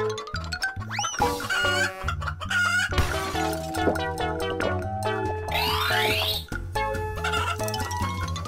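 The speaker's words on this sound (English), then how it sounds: "Chicken." Cartoonish chicken clucking and crowing calls set among bright, busy children's music with bouncy tones and sweeping effects, loud and continuous throughout.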